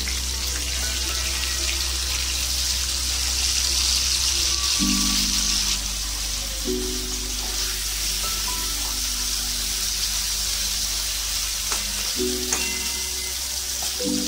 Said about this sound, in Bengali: ওই তেলের মধ্যে পনিরগুলো হালকা নুন আর একটু হলুদ মেখে রেখেছিলাম, ভেজে নেব